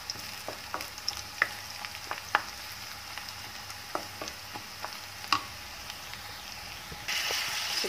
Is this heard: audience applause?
no